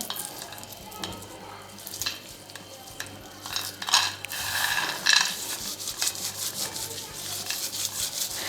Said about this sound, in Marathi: शेंगदाणे आपले नॉर्मल झालेले आहेत आता आपण ह्याचं वरचं जे साल आहे ते काढून घेणार आहोत